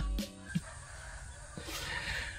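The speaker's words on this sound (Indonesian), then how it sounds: "ini ayam kok berkokok terus" A rooster crows on a farm, heard as a loud harmonic call at the start with a second crow rising near the end, and a few clucks in between.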